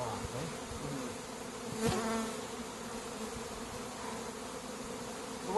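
Honey bees drone steadily in a dense, close buzz over an opened hive during summer hive work, holding level throughout with a brief swell near the middle; a short spoken syllable comes through once.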